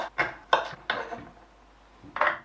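A knife roughly chopping ginger on a cutting board: three quick close knocks of the blade, a pause, then one more chop.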